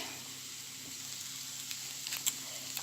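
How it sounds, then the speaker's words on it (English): Rendang paste frying over medium-high heat for beef rendang, a faint continuous sizzle with a few light stirring scrapes near the end, no voices. "Stir in the rendang paste for 2 more minutes"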